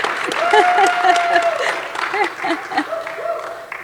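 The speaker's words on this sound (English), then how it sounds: "please give him a round of applause" An audience applauds Sheriff Villanueva at a community conversation, a burst of moderate clapping under a voice, which carries on over the crowd throughout.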